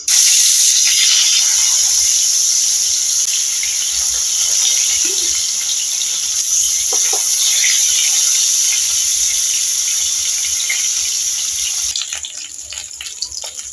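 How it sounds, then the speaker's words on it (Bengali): A steady, loud hiss of fish frying in hot mustard oil fills the whole stretch, continuous and close, with faint crackles and no talking. "এবার আমি মাছগুলো ভেজে নেব"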